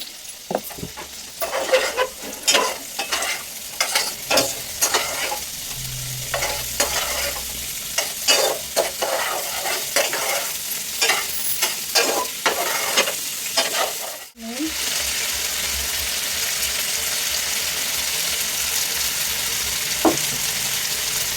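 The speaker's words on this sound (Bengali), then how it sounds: "তারপরে একে একে এইসব ভেজে দেবো দিয়ে দেবো রসুন কুচি" Chopped garlic and other ingredients fry and get stirred in a pan, with a steady sizzle broken by repeated scraping strokes for about fourteen seconds, then the sound settles into an even, uninterrupted hiss.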